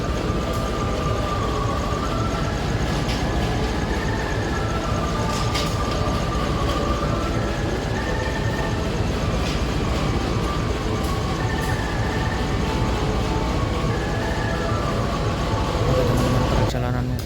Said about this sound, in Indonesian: perjalanan kereta api Kahuripan masuk stasiun Tasikmalaya ya